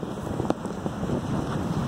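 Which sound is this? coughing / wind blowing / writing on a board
wind blowing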